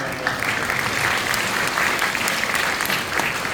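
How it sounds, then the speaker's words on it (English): A graduation ceremony audience claps in a dense, continuous wash of applause that holds steady and fairly loud throughout, with faint voices mixed underneath. "Let's clap it up for him."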